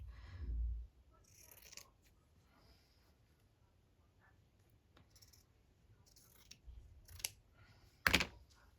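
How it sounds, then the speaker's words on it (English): Scissors cut out a paper shape for an embroidery project in a quiet room, sounding as a few faint, scattered snips and crisp rustles, with one sharper cut near the end. "I'm just going to cut this out."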